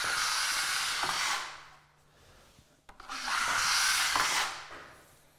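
A drywall knife drawn over wet joint compound on a wall seam gives two long, steady scraping swipes, close and fairly loud, with a short quiet pause between them.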